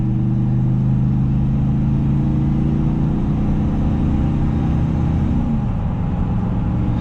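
A 2002 Chevrolet Silverado 2500HD with a 6.0 engine and 4L80 transmission drives along, heard as a steady, loud low-frequency engine rumble and road drone that eases slightly near the end.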